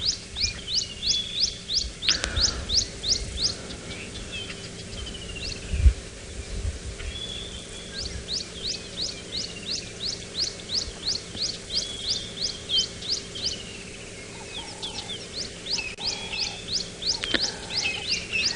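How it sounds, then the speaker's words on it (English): Birdsong in the African bush, with a southern boubou, red-backed shrikes and Cape turtle doves calling: repeated rapid bursts of high chirping trills in series, fairly close and clear over a quiet background. "Even more birdsong coming through. So we have southern boo-boo that's been calling. We have redback shrikes that have been calling."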